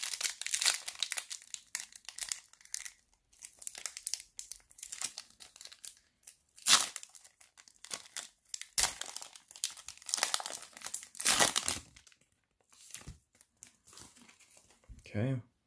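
A 2018 Black Friday basketball trading card pack is torn open and its foil wrapper crinkled, giving bursts of loud, close crackling and tearing with quiet gaps between them.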